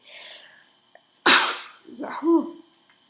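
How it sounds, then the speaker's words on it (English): A single loud, sharp sneeze bursts out close by, followed by a soft sniffling and a brief vocal sound as it fades. "Excuse me, I'm sneezing."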